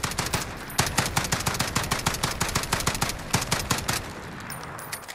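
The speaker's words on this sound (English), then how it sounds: "We'll just tap fire this fast and see what the recoil looks like." Rapid tap-fired shots from a DSA-58 rifle in Call of Duty Modern Warfare, with sharp close reports in quick uneven bursts and brief gaps over about five seconds.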